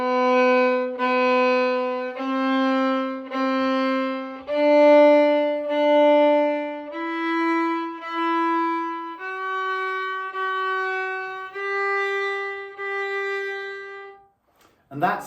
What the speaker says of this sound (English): we have the opportunity to play a 1 octave scale from open G, which would sound like this if I do 2 bows on each note.